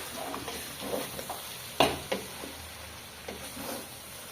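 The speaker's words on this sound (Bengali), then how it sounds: "চালটা ভেজে নিবা।" Raw rice being fried in a pan gives a quiet, soft sizzle with scattered light scrapes and one sharper clack of the spoon, close and low in level.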